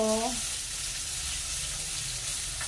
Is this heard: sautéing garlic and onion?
yes